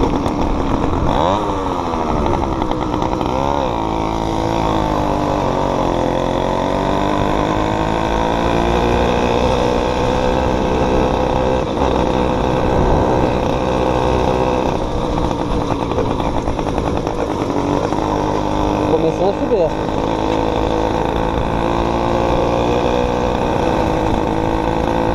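A small engine runs steadily and close by, a buzzy drone that rises and falls slightly in pitch as it revs, with no talking.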